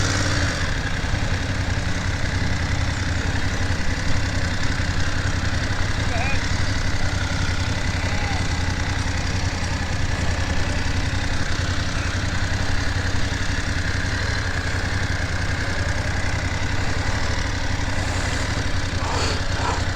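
A BMW GS motorcycle engine idles and rumbles steadily at an off-road riding experience, a low continuous drone heard beneath people talking and coaching.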